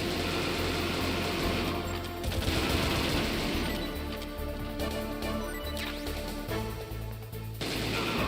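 Gunfire bursts from the video game Metal Gear Solid 1, rapid repeated shots layered over a steady game soundtrack and engine-like drone, loud and continuous throughout.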